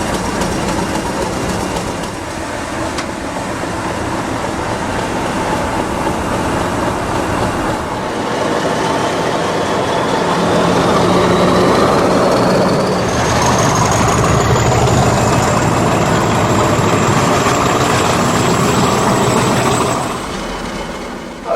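A Class 50 diesel locomotive at an engine house rumbles steadily nearby, the heavy engine drone swelling louder midway and holding before easing near the end, with no voices.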